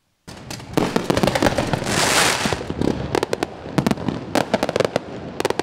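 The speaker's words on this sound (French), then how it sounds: "Comme tous les soirs de feux d'artifice," Night fireworks display in Monaco: a rapid string of sharp bangs and crackling bursts with a rushing swell in the middle, loud and close, the reports coming in irregular clusters.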